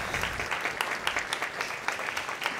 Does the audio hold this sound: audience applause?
yes